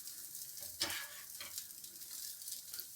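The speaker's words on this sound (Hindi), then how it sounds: "चिकन को 3 मिनट भूनेंगे।" Chicken frying in oil in a pan, a close steady sizzle and crackle with a few sharper spits and stirring scrapes, no voices.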